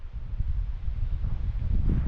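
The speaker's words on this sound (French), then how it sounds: "Le vent se lève." Wind gusts buffet the microphone on a mountain hike near a waterfall in the Pyrenees, a low, uneven rumble that swells and eases continuously with no voices.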